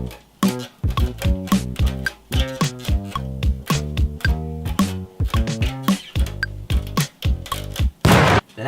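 Synth bass line in a beat-style music production track, punchy repeated bass notes in a steady rhythmic pattern with short percussive hits, loud and up close with no talking.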